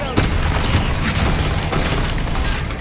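Confringo spell blasts in the Hogwarts Legacy video game: dense, booming fiery bursts layered over one another in quick succession, loud and close, filling the short stretch without pause.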